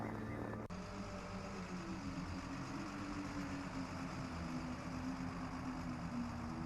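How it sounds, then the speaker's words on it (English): In the game Lost Horizon, a truck engine drones steadily at a distance with a low rumbling hum that holds throughout and slowly shifts in pitch. "Sounds like an engine."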